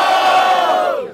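A rap battle crowd at an outdoor freestyle event in Barueri roars and shouts in one loud sustained burst for a rapper, then fades quickly.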